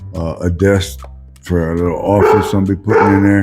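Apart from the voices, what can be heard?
dogs barking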